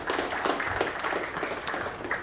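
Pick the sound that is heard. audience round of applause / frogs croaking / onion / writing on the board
audience round of applause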